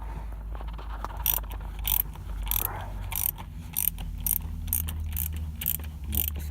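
A ratchet clicks in quick repeated bursts while removing screws from the starter motor of a Jumper, Boxer or Ducato van, close and clear in a quiet workshop setting with no talk.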